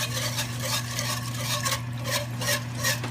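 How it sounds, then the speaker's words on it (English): Sausage gravy being stirred in a pan as milk is added, a steady scraping swirl with a low sizzle underneath, continuous and close with no talking. "Just as you're adding your milk, you just want to stir it."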